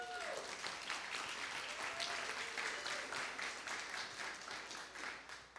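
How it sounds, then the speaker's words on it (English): A spiritual community's audience gives a warm round of applause for its prayer council, continuous clapping at moderate distance with a few voices underneath, easing near the end. "So a huge round of applause to our prayer council."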